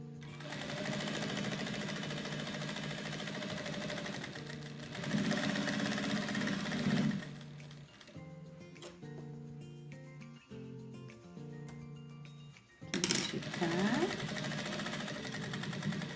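A sewing machine stitches fabric for a dish-towel border, running in steady motor bursts with a short pause and lighter start-stop stitching in the middle before a loud restart.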